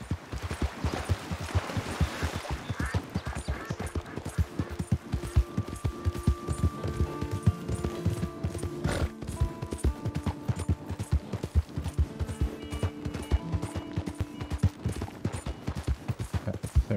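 Horse hooves clip-clop in Red Dead Redemption 2, a steady, fast rhythmic run of sharp hoofbeats throughout, with faint tonal game sounds in the background.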